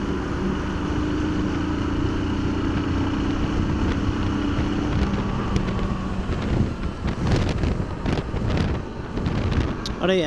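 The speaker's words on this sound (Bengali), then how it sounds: "আরে এত হাওয়া, বাপরে বাপ" Strong wind buffets the microphone of an action camera during a motorcycle ride, a continuous loud low roar with gusty surges that grows rougher toward the end.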